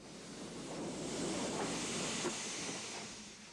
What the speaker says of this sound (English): The 282 tank begins its manoeuvres to run down onto its train.